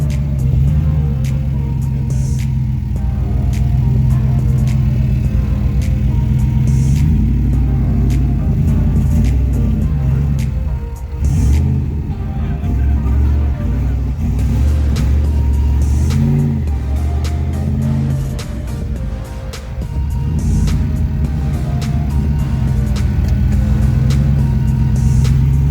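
Turbocharged 4.6L Ford Mustang V8 driving, a loud deep engine rumble heard from inside with repeated revs and accelerations, and brief dips as it shifts.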